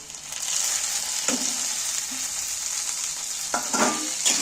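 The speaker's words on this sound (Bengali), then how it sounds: "আবারও নাড়তে থাকবো পেঁয়াজগুলো যতক্ষণ একটু ঘাটা ঘাটা হচ্ছে ততক্ষণ নাড়তে থাকবো" Onions and chopped tomatoes fry in a pan for a badam chicken recipe, giving a steady close sizzle broken by a few louder spoon-scraping stirs, with no talking.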